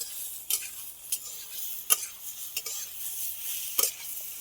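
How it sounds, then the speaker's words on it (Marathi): Chopped guava with turmeric and onion-garlic masala is stirred in a hot iron kadhai, a faint sizzle punctuated by about six sharp metallic spatula scrapes at uneven intervals, with no voices. "चांगला परतून घ्यायचा आहे"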